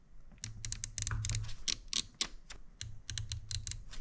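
Crisp clicks from the adjustable hop-up dial on an airsoft sniper rifle, a dense run of sharp ticks in two bursts with a low hum underneath, close and fairly quiet.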